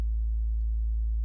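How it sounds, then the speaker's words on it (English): A pure sub-bass sine wave tone from a synthesizer waveform list, held steady and smooth with no edges for just over a second, alone and without any voices. "Go into my list of waveforms and just take a sine wave."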